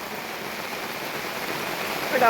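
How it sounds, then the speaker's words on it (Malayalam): Steady, dense hiss of heavy rain pouring down continuously, close and fairly loud, swelling slightly at the very end. "നല്ല മഴയാണ്"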